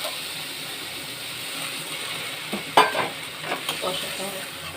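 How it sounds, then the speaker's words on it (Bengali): Spoon stirring cumin, coriander and chilli powder with a splash of water as the spices fry for a spicy lotte fish curry, a steady soft sizzle with a few sharper scrapes near the end. "একটু জিরের গুঁড়ো, একটু ধনের গুঁড়ো আর এমনি লঙ্কার গুঁড়ো দিয়ে আবার একটু জল দিই।"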